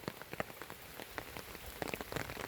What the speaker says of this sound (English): We are off to the store to do some banking and pick up a few things in the rain